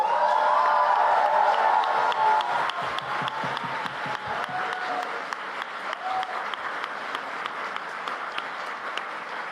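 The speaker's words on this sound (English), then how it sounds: "Please give them a strong round of applause." At the WSDC 2025 Grand Final, a large audience claps and cheers loudly for the debaters, sustained applause that slowly eases into a thinner, ongoing patter of clapping.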